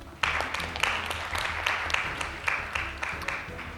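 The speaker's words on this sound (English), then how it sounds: "Let's give our two speakers a round of applause" Audience applause for two debate speakers at a youth day debate event, a burst of clapping that starts abruptly and carries on steadily with distinct sharp claps over a dense wash.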